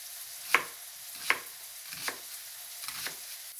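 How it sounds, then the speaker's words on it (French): Finely chopped onions sauté in hot olive oil in a sauté pan, a soft continuous sizzle broken by four evenly spaced, sharp utensil scrapes or taps. "Dans une sauteuse avec de l'huile d'olive chaude, faites revenir les oignons que vous avez finement ciselés juste avant"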